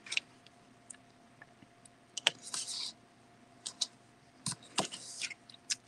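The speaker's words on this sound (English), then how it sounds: "So I'm going to put a piece of tear and tape here." Pieces of tear-and-tape double-sided adhesive tape for a paper craft lip balm holder are pulled and pressed down close by, giving scattered crisp peeling and tapping bursts separated by quiet gaps.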